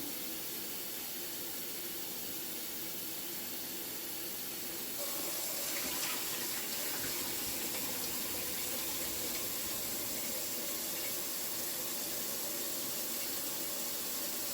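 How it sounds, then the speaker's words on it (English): Red beans are rinsed under a running tap for refried beans, with a constant close water hiss that suddenly grows louder and fuller partway through and then flows on steadily without speech. "So that's on one rinse. We're gonna do 2 rinses"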